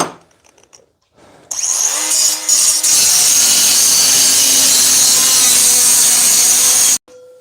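A cordless cut-off tool cuts through material with a loud, steady high-pitched whine and grinding rasp that starts abruptly after a quiet moment, runs continuously for several seconds, then cuts off near the end.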